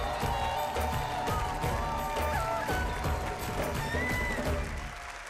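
Audience applause on a singing competition show greeting judge Malini Awasthi: busy, crackling clapping and cheers over loud stage music, fading slightly toward the end.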